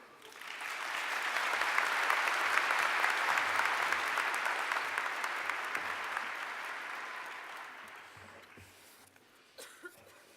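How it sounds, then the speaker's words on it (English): Audience at a university commencement ceremony breaks into sustained applause that swells within the first seconds, holds steady, then gradually tapers off, with a few scattered claps and coughs near the end. "That is applause worthy."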